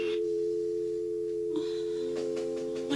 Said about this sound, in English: but the red phone is ringing.